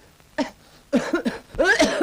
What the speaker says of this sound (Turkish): İnsan gibi öksür.